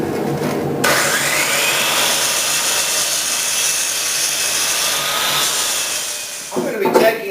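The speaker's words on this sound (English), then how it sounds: "I'm going to be bandsawing them into veneers" A bandsaw slices thick wooden planks into veneers, a loud, steady hissing cut that runs for several seconds up close before stopping with a brief clatter.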